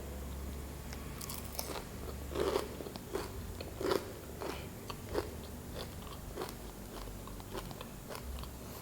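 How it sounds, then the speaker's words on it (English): Crispy cheese-stuffed rice balls are bitten and chewed up close, producing a series of sharp crunches spaced irregularly over several seconds, with quieter crackling chews in between. "By the way I chew it, the sound that makes, you can perfectly tell it's like crispy"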